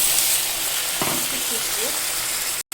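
Curry gravy with fried eggplant bubbling in a pan, a continuous dense sizzling hiss throughout with a faint brief clink in the middle.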